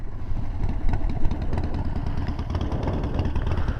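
A motorcycle engine pulling away from a stop into a right turn, a steady rumbling drone heard fairly close across a few seconds with no talking.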